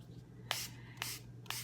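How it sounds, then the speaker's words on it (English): Short hissing bursts from a spray bottle misting dye onto fabric for primitive-style dyeing, three separate pumps spaced about half a second apart, close and fairly quiet over a low steady hum. "maybe we'll start off with a little bit of spray again."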